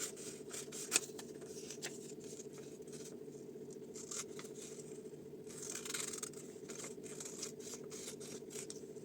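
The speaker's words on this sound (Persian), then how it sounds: "خب حالا چطور قیچی کنم؟" Scissors cut fabric along a curved line for a men's shirt collar. Quiet, close snips and light rustling patter come at irregular intervals, with one sharper click near the start and no speech.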